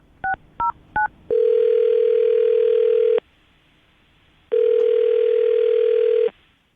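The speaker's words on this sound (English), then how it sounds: "I'll dial the phone number right now." A telephone keypad gives a quick run of dialing beeps, followed by two long ringback tones separated by a pause, clear and close with no voices.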